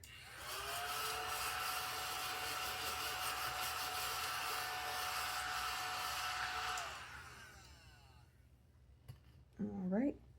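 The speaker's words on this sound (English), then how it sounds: "I'm gonna vacuum this off real quick" A small vacuum whirs steadily and close as it cleans off a savings challenge book, running several seconds before winding down, followed by a quiet pause and a brief voice at the end.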